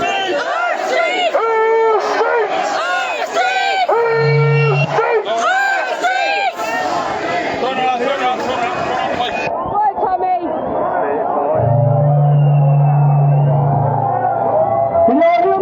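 A large protest crowd in Cork City chanting in rhythmic bursts and shouting loudly, with whistles or horns sounding, then a pause before a voice rises over the crowd.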